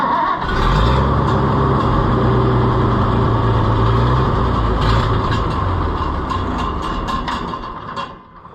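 Oliver 1800 A Series tractor engine, left sitting over two years, runs steadily and loud with a rough rumbling drone, then drops off abruptly at the end.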